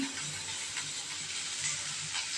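Onion, green chili, ginger and tamarind sautéing together in a pan for cabbage chutney, a steady soft sizzle running throughout, close and quiet with no talking.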